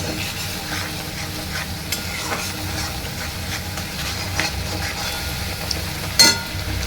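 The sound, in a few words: frying fish curry spices in a pan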